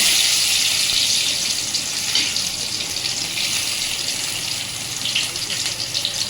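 Chopped onions hit hot oil where mustard seeds have already popped, cooking for egg rice; a steady, close, bright sizzle hisses throughout with no voices.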